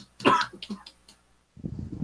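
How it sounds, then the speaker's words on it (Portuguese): A man coughs after choking on water: a sharp cough followed by several smaller throat-clearing coughs, close and loud, then a brief low rumble at the end, with no speech. "meu marido engasgou com a água aqui"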